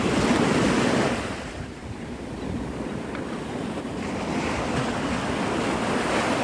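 Ocean waves wash ashore at Pensacola Beach, Florida, a steady broad roar of surf, loud and close, with wind rushing over the microphone and no voices.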